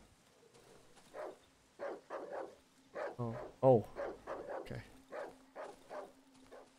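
In the video game Darkwood, a chained dog barks close by in a string of rough, growling barks, while a person speaks briefly.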